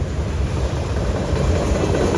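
A freight train on a rail line passes close by, a steady, loud rumble of wheels and cars rolling continuously without a break.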